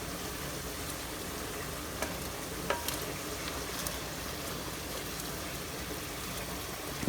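Onions frying in a pan for a country chicken dum biryani, a steady close sizzle with faint stirring clicks and no talk.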